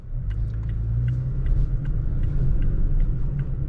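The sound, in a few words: pickup truck accelerating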